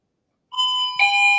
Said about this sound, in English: The textures have rung the doorbell.